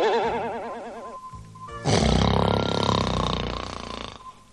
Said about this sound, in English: A loud snoring noise was coming from inside a cloudmobile.